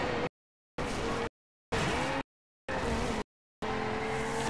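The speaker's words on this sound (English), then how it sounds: "In my Lamborghini!" Lamborghini race car engine in the Forza Horizon 2 video game, roaring in four or five loud bursts separated by abrupt silent gaps, with hints of tire noise.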